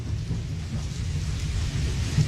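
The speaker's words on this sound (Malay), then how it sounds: "datang lagi hujan selebat-lebatnya Casey" Heavy rain pours down in a dense, steady hiss while deep thunder rumbles low underneath, building slightly toward the end, loud and continuous with no talking.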